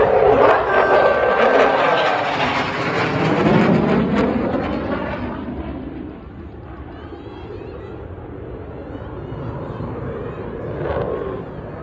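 F-16 fighter jet roars past at a children's day air show at Wing 23, a loud sweeping engine rumble that fades into a distant drone, with a crowd murmuring and people talking nearby.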